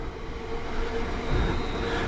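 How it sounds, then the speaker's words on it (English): A small train rumbling past close by, a steady rolling clatter that swells slightly partway through. "it's a little baby train."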